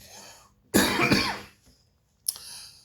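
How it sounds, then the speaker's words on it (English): A burst of harsh coughing close to the mic, then a pause and one short sharp cough or throat clear. "I've been coughing a lot in the morning."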